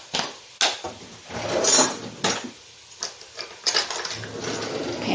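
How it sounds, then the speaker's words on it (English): Salt is measured out with a Pampered Chef measuring spoon owned since the 80s: scattered clinks, taps and brief scraping clatters of the spoons, irregular and close, with quieter gaps between. "Pampered Chef measuring spoon again. So I need 2 teaspoons of salt."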